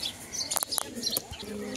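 Pigeons of a foreign breed, kept for sale, coo softly in short low notes among brief high chirps, faint and close, over about two seconds.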